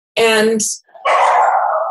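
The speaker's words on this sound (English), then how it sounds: "I'm sorry about my dogs. They're nuts." Pet rescue dogs at home bark in a sharp burst, then let out a long rising howl, loud and close, with a brief spoken word between them.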